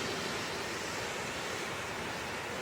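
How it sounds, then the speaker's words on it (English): A large waterfall on the Horse Pasture River in western North Carolina pours in a steady, dense broadband rush that fills the whole stretch without a break, heard fairly close and with no voices. "this is the falls formed on the Horse Pasture River here in western North Carolina"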